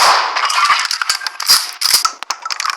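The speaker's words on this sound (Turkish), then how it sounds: "İyi ilk baş dealer'ın kafasına patlatırsam o mermi gidecek ona" Shotgun blast in the video game Buckshot Roulette: a sharp, bright gunfire burst followed by a few clattering mechanical clicks and rattles, loud and close, with no speech.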